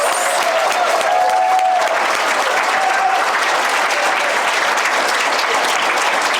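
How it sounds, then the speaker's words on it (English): Applause from an audience at an entrepreneurs' elevator pitch event, honoring the first round of presenters; steady, dense clapping that carries on loudly for several seconds with no talk. "So I want you to clap for the first round, the folks."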